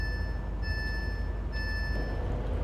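A Class 390 Pendolino train in Train Simulator sounds its door-opening alarm, a steady repeating electronic tone tune held over a low ambient hum at moderate volume.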